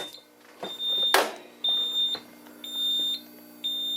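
Repeated electronic beeps from a carbon monoxide detector alarm on a Simplex 4100ES fire alarm system, steady high tones in short bursts with pauses, loud and close, with a brief hiss of test gas spray.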